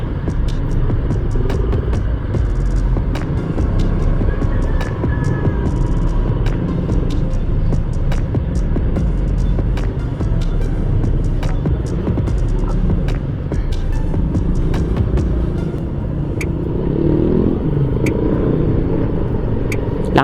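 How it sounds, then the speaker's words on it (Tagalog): Road traffic along a street in Bulungan, a steady close rumble of car engines and passing vehicles with low throbbing hum, continuous and fairly loud throughout. "Traffic."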